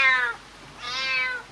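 A cat meows twice up close, a short cry followed after a brief pause by a longer, rising one, with no other sounds.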